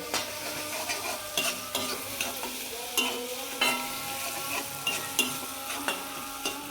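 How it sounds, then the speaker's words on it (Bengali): Food gets stirred in a frying pan over a village kitchen fire, a spatula scraping in a regular rhythm of sharp strokes over a constant sizzle of frying. "দেখুন আমার নাড়াচাড়া হয়ে গেছে।"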